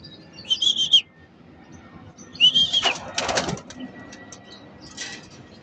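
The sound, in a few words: racing pigeons cooing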